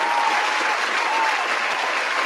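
A dense applause sound effect plays loud and close, an unbroken wash of many hands clapping that stays even for a little over two seconds.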